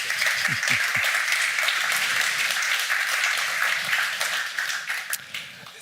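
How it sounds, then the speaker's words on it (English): Audience applause at the CEV EuroBeachVolley 2022 drawing of lots, a steady round of clapping with a few low voice sounds early on, tapering slightly toward the end. "a big round of applause for Klaus again"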